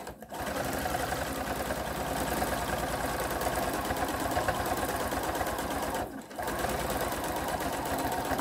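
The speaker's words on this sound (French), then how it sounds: "Donc après, on va piquer à la machine." A sewing machine stitches a Peter Pan collar onto a collar stand, running as a steady, close mechanical whir that stops briefly near the end before starting up again.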